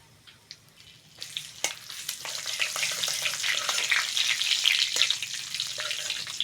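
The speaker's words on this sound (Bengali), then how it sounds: "ফোড়নের জন্য নিয়েছি শুকনো লঙ্কা, তেজপাতা আর পাঁচফোড়ন দিয়ে দেবো।" Dry red chillies, bay leaves and panch phoron hit hot mustard oil, a few sharp pops giving way to a loud, crackling sizzle that builds and holds steady up close.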